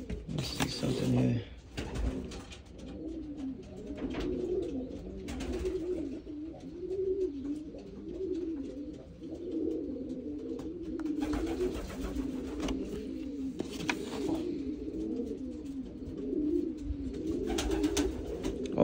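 Racing pigeons coo steadily in a low, rolling murmur across the whole stretch, with a few sharper flutters and bird calls cutting in and a faint background hum; no one speaks.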